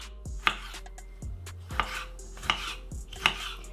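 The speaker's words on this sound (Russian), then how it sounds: "Нарезаем ее небольшими кубиками." A knife chops a tomato into small cubes on a cutting board, four or five crisp, evenly spaced strikes, close up with no talking.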